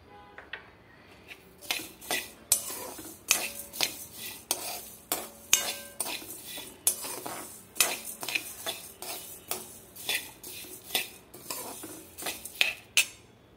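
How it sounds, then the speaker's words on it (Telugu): Peppercorns, cumin seeds and toor dal dry-roasting in a pan for rasam powder, stirred with a utensil in a steady run of scraping, clinking strokes and rattling seeds, close and fairly quiet with no voices. "వీటన్నిటిని కూడా కొంచెం కలర్ వచ్చేంత వరకు వేయించుకుందాము."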